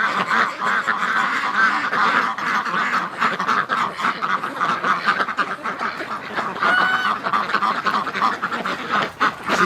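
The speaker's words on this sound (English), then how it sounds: "She's such a cool looking duck." A flock of wintering ducks and geese, Muscovy ducks among them, fills the air with dense, continuous quacking and honking, with many overlapping calls close by and hardly a pause.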